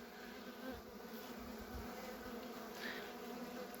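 A steady, continuous buzzing of many honeybees at a hive in an apiary, a soft droning hum that stays even throughout with no speech.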